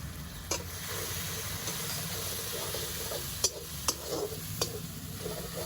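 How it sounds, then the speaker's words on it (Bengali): Ground turmeric and Kashmiri chili powder sizzle steadily as they sauté in a pan, a continuous close frying hiss broken by a few sharp clicks of stirring. "মশলাটা আমার কষা হয়ে গেছে"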